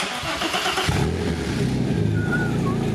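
A Volkswagen Passat engine cranks briefly, then catches and settles into a loud, rough idle close by, with no talking.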